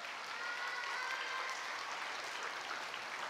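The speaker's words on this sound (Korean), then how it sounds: "우리 똑순이 박수 한번 해주세요" An audience claps steadily in a church during a children's Sunday service, a soft, even patter of many hands lasting a few seconds with no voices over it.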